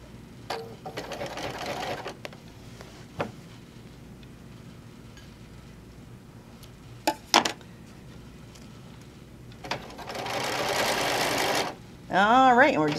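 Stitching near the raw edge, a sewing machine runs in short whirring bursts separated by pauses with clicks and handling noises, ending in a longer steady run; a voice talks at times.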